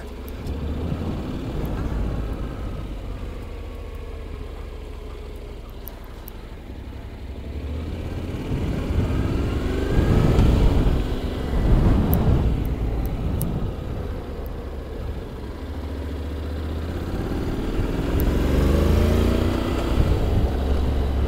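A 2022 Honda X-ADV motorcycle rides along without its travel pack, its steady engine drone mixed with wind rush, swelling louder around the middle and again near the end.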